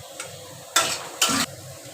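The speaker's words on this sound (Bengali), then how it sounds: "এবার আমরা এই কড়াইতে তেল দিয়ে দেবো পেঁয়াজটা ভাজার জন্য।" Oil and onions fry in a kadai, giving two short bursts of loud sizzling hiss as they hit or are stirred, then a quieter background crackle.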